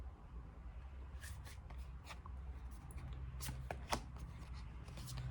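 Tarot cards are shuffled and drawn in short, crisp riffling and sliding bursts, quiet and close against a low background hum.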